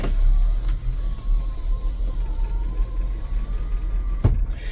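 Car engine running as the vehicle pulls away for a drive, a loud low rumble close by that holds steady with a slight rise in pitch, with a couple of brief knocks.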